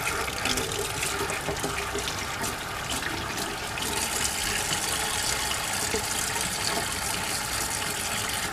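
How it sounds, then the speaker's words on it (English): Water runs steadily from a tap, a continuous soft hiss and splash with no talking, fairly quiet and unchanging throughout. "You can just use tap water."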